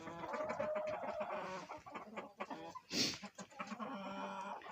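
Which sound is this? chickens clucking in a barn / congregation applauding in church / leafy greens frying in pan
chickens clucking in a barn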